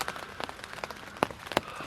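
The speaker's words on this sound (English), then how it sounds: "I started hearing the rain, pattering down on the tent and over there on the rain fly" Rain drumming on a tent and rain fly out in the woods, soft continuous patter broken by a few sharper, louder drops landing close, no one speaking.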